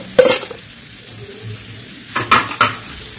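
Ground spice paste with browned lentils frying on low heat in a pan, a soft steady sizzle broken by a few close stirring scrapes and clinks of a spoon against the pan, no talk.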